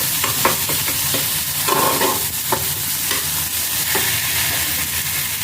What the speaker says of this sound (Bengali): আমি একটু জল দেবো, সামান্য গরম জল।